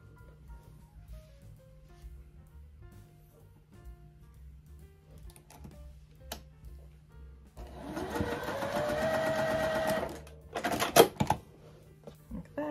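Sewing machine stitching a quilted mug rug, a quiet room with soft handling sounds before a few seconds of steady whirring stitching, followed by a brief louder burst of machine noise.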